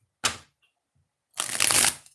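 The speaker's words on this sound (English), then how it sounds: "We'll do 3 shuffles for this deck" A tarot deck is shuffled close up in two bursts: one brief sharp riffle followed by a longer, louder cascading riffle about a second later, with near silence between them.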